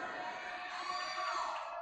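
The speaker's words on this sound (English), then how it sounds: "This crowd is loud" A wrestling crowd at a heavyweight championship main event roars in a dense, continuous wall of cheering and shouting. It sounds distant and fairly soft, with no single voice standing out.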